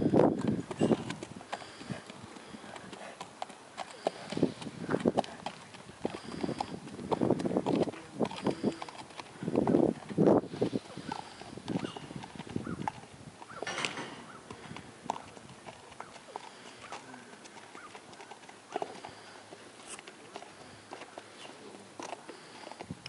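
A horse's hooves clip-clop on the ground at a walk, trot and canter, with rhythmic thuds that speed up and slow down at moderate distance, fairly faint overall.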